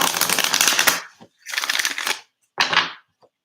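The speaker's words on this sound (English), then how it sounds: "I'm just shuffling the cards" Tarot cards are shuffled in three loud, close bursts of rapid riffling flutter separated by short pauses, with no speech over them.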